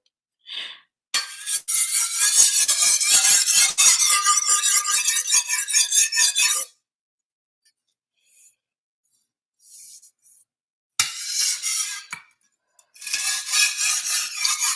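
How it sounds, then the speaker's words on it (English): A Chinese meat cleaver sharpened in long stretches of close, rasping scrapes, with quiet pauses between bursts. "I'm just sharpening a knife right now"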